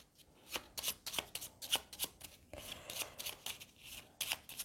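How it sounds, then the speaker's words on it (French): Deck of cards for the German Railroads board game being shuffled by hand, a series of quick, close riffling and snapping bursts in an irregular rhythm, quiet and without talk. "On remélange son paquet."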